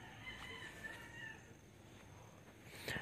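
Backyard chickens in a vegetable garden cluck faintly and sporadically at a distance, with a brief louder squawk near the end over quiet outdoor ambience.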